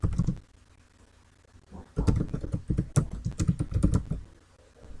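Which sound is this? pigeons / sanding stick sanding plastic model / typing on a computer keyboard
typing on a computer keyboard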